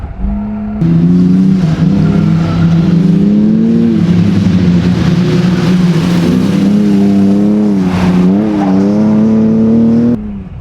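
A BMW E36 M3 slicktop climbs a hill under sustained engine load, its loud, steady drone rising and falling slightly with throttle and gear changes over about ten seconds, close and continuous with no talking.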